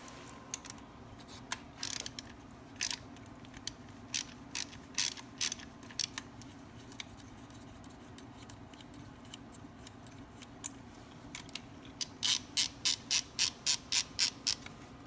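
A 10 millimeter ratchet loosens ground bolts on a Volkswagen Jetta, giving scattered sharp clicks followed by a fast, even run of ratcheting clicks near the end, close and otherwise quiet.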